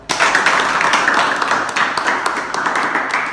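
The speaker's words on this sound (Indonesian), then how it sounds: "Tepuk tangan dulu buat kita." Applause in a classroom, a short burst of many hands clapping together, dense and close, fading slightly toward the end.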